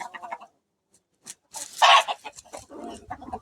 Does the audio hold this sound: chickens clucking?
yes